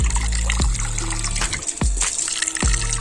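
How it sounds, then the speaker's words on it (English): Water trickles and splashes over a slightly opened filter cap during snail-farm filter maintenance, a loud close running stream with a few sharp splashes and gurgles. "Just open it slightly to wash the cap."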